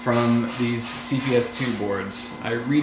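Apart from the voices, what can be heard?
No everyday noise stands out behind the speech.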